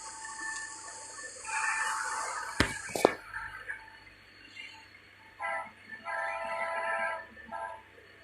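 Train rumbling past in the Batman Telltale game, a steady mechanical roar with a couple of sharp clanks midway and fluctuating rattling toward the end, no talk over it.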